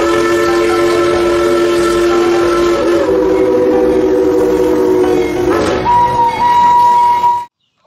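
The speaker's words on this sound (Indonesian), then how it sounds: "Wih, ada kereta Thomas teman-teman atau kereta uap." A toy Thomas steam train sounds a loud, sustained multi-tone steam whistle that shifts pitch partway through, then settles into a single high tone before cutting off abruptly.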